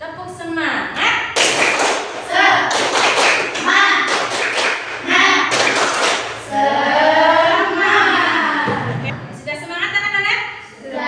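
A classroom of students doing a rhythmic spirit clap in unison, sharp claps and thumps repeating in patterned bursts, loud and close, with chanting voices and a teacher speaking between them.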